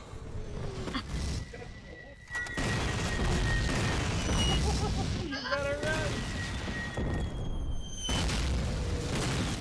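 Artillery barrage explosions in Call of Duty: United Offensive Capture the Flag, a loud, sustained rumble of booms and blasts that fills the clip, with voices mixed in.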